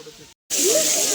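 Water rushes down from a dam near the Tirupati temple, a loud, steady, broad roar that cuts out briefly and then returns at full strength.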